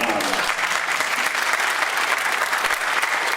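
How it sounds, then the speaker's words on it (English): Audience applause at a state senate debate in a high school venue, a dense continuous wash of clapping from a full room, steady and loud throughout, with crowd murmur beneath. "I think there's one person in this room who deserves a round of applause, which is Sarah"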